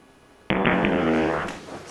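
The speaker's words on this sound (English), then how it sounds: "I really gotta fart. Should I fart?" A loud, close fart begins abruptly, a long buzzing rasp that holds steady for about a second before trailing off, heard on its own with no talking.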